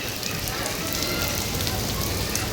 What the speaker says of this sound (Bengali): কি বৃষ্টি হচ্ছে দেখো আজকে।